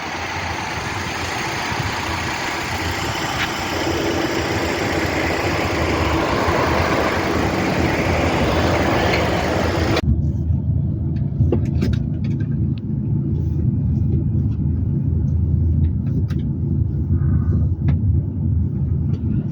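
A transport truck engine idles in a remote desert spot, a steady deep rumble close by, with brighter air noise in the first half that drops away, leaving the low engine drone alone.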